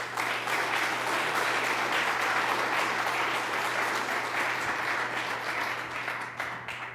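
A lecture-hall audience claps steadily and warmly, a sustained wash of applause that fades slightly toward the end.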